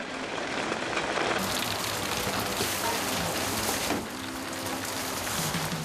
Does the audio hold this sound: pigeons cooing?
no